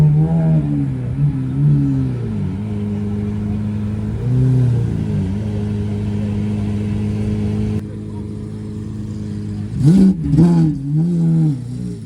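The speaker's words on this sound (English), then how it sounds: "we've got an SVJ rolling into" A Lamborghini Aventador SVJ hypercar rolls into a Toronto car meet, its engine droning at a steady idle broken by several sharp revs, loud and close.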